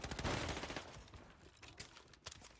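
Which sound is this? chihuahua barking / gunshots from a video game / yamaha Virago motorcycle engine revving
gunshots from a video game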